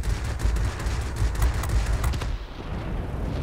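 Aircraft cannons fire rapid bursts in World of Warplanes, with a fast stuttering rattle over loud engine rumble that stops near the end.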